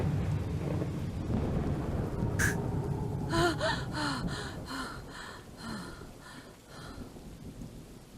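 A person gasps for breath in a series of strained, rhythmic gasping inhales, close up, needing an inhaler, while steady rain and a storm rumble in the background.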